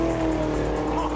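Peter Brock's A9X Holden Torana race car runs with its engine droning loudly in a steady, unbroken tone through a short burst with no talk over it.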